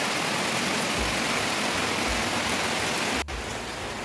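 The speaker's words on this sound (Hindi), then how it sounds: "बारिश की आवाज़" Steady, dense hiss of heavy rain falling close by in Kotdwara, loud and continuous, dropping slightly in level near the end, with no voices.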